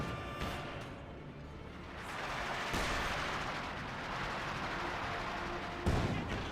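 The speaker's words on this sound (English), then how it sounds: "Siege barrage as well." Siege artillery barrage in Company of Heroes 2 lands as a series of heavy booming impacts and rumbling blasts, dense and continuous with sharper hits standing out near the start and end.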